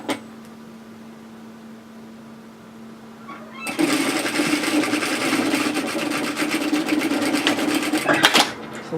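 A sewing machine runs a steady, close, loud whirr for about five seconds while stitching a woven kimono robe's shoulder seam, after a quiet hum and before stopping abruptly.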